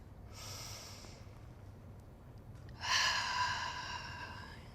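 Two breathy exhalations during a Pilates knee-drive exercise in an at-home workout, a softer one first and a stronger, more forceful one after a short pause, close and clear with no talking.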